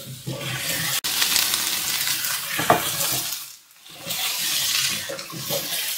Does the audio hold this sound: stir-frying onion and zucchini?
yes